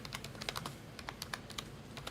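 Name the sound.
typing on a computer keyboard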